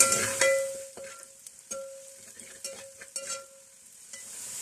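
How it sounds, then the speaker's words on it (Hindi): Whole garam masala spices, including cardamom and white cumin, frying and sizzling in a pan for vegetable pulao, with steady crackle and a few clinks of stirring throughout, close up. "ये सारा गरम मसाला इसमें डाल देंगे। थोड़ा सा इसको फ्राई कर लेते हैं।"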